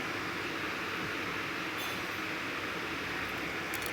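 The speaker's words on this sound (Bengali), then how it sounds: "এখন আমার ট্রেনটা ছেড়ে দিল।" A train pulls out of a station, heard from inside the carriage as a steady, dense rumble and roar with a faint high squeal near the end and no voices.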